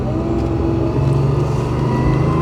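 A 1994 Porsche 911 Turbo with a 3.6-liter engine drones loudly from inside the car as it accelerates through a turn, a steady rising engine tone with no talk.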